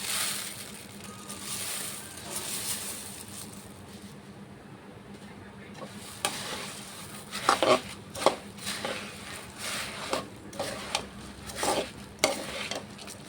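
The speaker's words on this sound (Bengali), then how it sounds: "এখন মুড়ি দিয়ে দেব অল্প অল্প করে" Puffed rice stirred by hand into a pot of jaggery syrup while making muri moa: a quiet start, then intermittent crunchy scraping strokes and rustles, close and uneven in rhythm.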